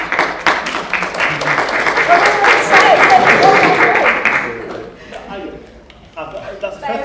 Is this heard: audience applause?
yes